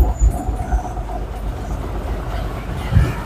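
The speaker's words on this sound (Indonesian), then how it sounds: "Mesin halus teman-teman, dijamin mesin sehat." A 2015 Suzuki Futura T120SS pickup engine idling, a steady low rumble with faint mechanical ticking and a couple of deeper thumps, heard close and fairly loud with no talk.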